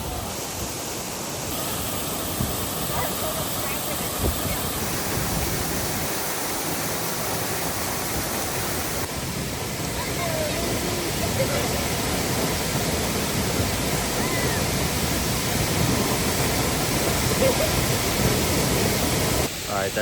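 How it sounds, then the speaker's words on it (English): The 50-foot waterfall at Havasupai roars in a dense, continuous rush of falling water, loud and close, with people talking faintly underneath. "I think this is my favorite waterfall in all of Havasupai"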